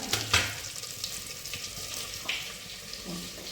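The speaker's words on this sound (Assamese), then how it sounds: "মাংস আৰু আলু দিয়া হৈ গ'ল এবাৰ এনে সাধাৰণকৈ লৰাই দিওঁ" Meat and potatoes being stirred as they fry in a pressure cooker: a steady close sizzle with scraping stirring strokes, one louder scrape near the start, and no talking.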